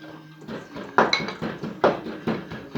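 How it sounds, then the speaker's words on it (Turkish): Ginger is crushed in a glass jar with a muddler: a series of hard, hollow clunks and knocks, roughly one every half second, close and fairly loud, with a faint glassy ring. "zencefilimizi eziyoruz"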